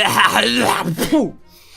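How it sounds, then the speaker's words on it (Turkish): A person clears their throat in a short, rough, voiced burst lasting under two seconds, close and loud, with a strained groan-like tone. "bir boğazımı temizlememe izin verir misin?"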